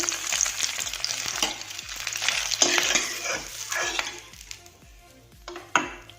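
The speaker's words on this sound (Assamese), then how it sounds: "এটা কণীকেইটা ফ্ৰাই হৈ গ'ল, নমাই ৰাখিম।" Eggs fry in hot oil in a pan for an egg curry, giving a steady, close sizzle and crackle with occasional scrapes and clinks of a utensil against the pan.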